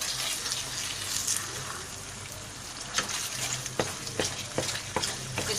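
Cornflour Karachi halwa being mixed in a pan over raised heat, with a soft steady sizzle beneath and a run of sharp, close scraping stirs toward the end.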